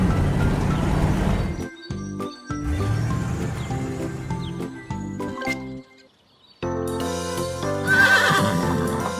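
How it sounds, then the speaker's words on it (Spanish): A cartoon horse neighs and whinnies among cartoonish effects, with jingling tones and brief gaps of silence, bright and up close. "esta es la pista en la que el caballo puede correr y saltar"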